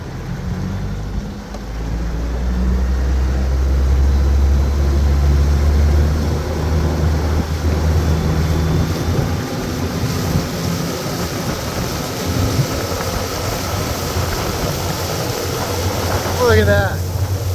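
A boat driven by a Suzuki 75hp outboard motor accelerates onto plane, its engine swelling into a loud, steady roar with rushing water and wind noise as someone talks over it.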